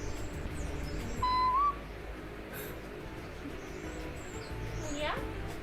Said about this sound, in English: That's a cute bird.